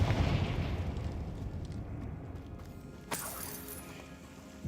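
In Hogwarts Legacy the Confringo blasting spell explodes with a low rumbling boom that rolls and fades, then a sharper burst strikes near the end.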